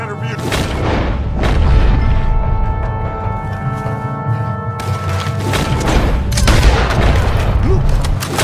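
Dynamite blasts and gunfire boom through a battle in Red Dead Redemption 2, heavy repeated explosions and crackling shots layered with shouting voices throughout.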